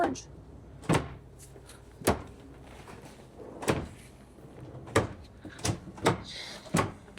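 Drawers sliding open and shut in an Airstream trailer, a series of sharp wooden knocks and thuds at irregular intervals, close by, with people talking quietly between them.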